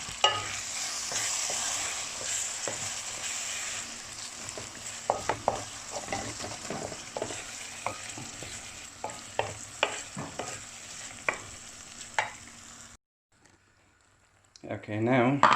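Kidney beans and sweet corn sizzle in a frying pan under repeated scraping stirs of a utensil, before the sound cuts to near silence and a voice speaks at the end.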